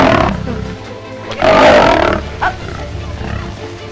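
A male lion roaring in an arena setting, one loud close rumbling roar swelling in the middle, followed by a short grunt and lower growling.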